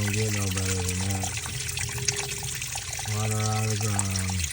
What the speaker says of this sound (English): Water out of the ground.